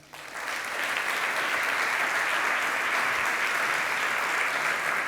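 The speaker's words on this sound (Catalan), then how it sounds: "Us demanaré també un fort aplaudiment." Loud, sustained audience applause fills a hall at a film festival closing gala, rising quickly and holding steady without any voices.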